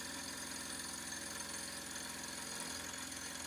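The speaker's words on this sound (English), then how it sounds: "ran an end mill all the way down the corner there at just the right width" A milling machine runs an end mill down the corner of metal stock clamped in a vise, a steady, dense machining whir with a low rhythmic chatter that stays constant throughout, with no talking.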